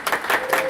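Audience applause at the opening remarks of an event, a dense steady clatter of many hands clapping, fairly loud and sustained throughout.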